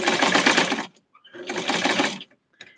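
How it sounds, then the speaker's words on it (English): A sewing machine stitches a Barbie-sized tweed suit in two steady bursts of rapid whirring, close and loud, with a brief pause between them and a short third start at the end. "I'm going to sew it in place."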